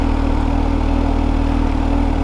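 A Kawasaki Z H2 motorcycle engine in low power mode with traction control off runs close and loud, a steady, even throbbing idle that holds a constant pitch without climbing.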